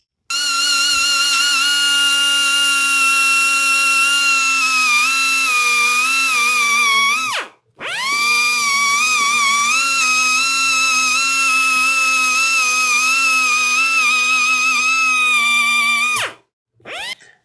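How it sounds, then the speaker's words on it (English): A high-speed dental handpiece whines steadily and loudly while polishing the acrylic of an implant-retained denture, its pitch dipping briefly under load before it cuts out near the end. "you use the polishing bar as well for the acrylic bit"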